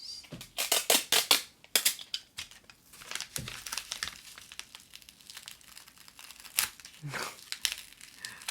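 Paper crinkles and tears as an eyebrow stamp kit is unboxed close to the mic, in bursts of sharp rustling and crackling that come and go for several seconds, then give way to quieter handling.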